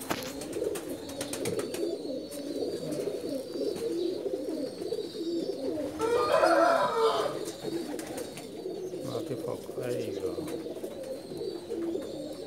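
A special pair of Pakistani pigeons called Lal Pari coo repeatedly at close range in a rhythmic, throaty pattern, with a louder burst of cooing and fluttering midway and faint talk in the background.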